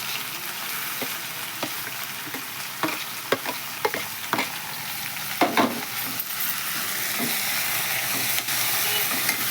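Green chillies, tomatoes and onions fry in a pan with a steady sizzle. Scattered ticks and clinks from stirring come and go close by, and there is no talk.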